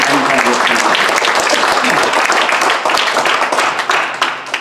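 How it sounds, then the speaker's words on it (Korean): Applause from a church congregation for a guest pastor at a New York pastors' New Year prayer meeting, dense sustained clapping that fills the room loudly, then tapers off near the end. "우리 강사 목사님을 위해서 박수 한번"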